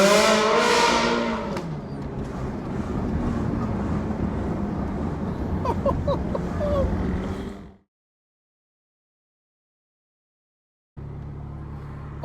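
A Ferrari 308 series supercar drives through a tunnel, its engine note loud and reverberant and building steadily before cutting out abruptly to silence, then returning.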